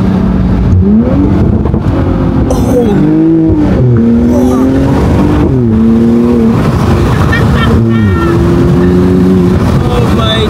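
Mercedes SLC 43 AMG convertible on a bypass, its exhaust burbling and revving in loud repeated pulls with rising and falling engine tones, crackles between revs, and a brief exclamation over it.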